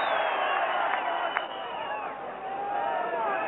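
A capacity crowd of around 13,000 at a 1987 Neath versus Llanelli rugby cup match, a continuous broad roar of murmuring and cheering heard from a distance, with commentary over it.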